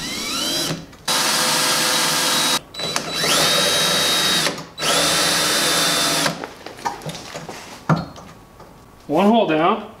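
A power drill fitted with Mastercraft bits bores a hole, running in three long, loud, whining bursts separated by short pauses, followed by scattered clatter and a brief final rev.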